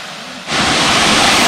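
Water pours down the second tier of Saeng Chan (Long Ru) waterfall in a loud, steady, broadband rush. It swells abruptly after a slightly quieter opening moment and continues unbroken.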